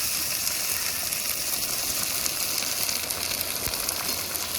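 Ginger, garlic and green chili paste fries in a pan during village-style cooking, giving a loud continuous sizzling hiss close up that stays even throughout, with no talking.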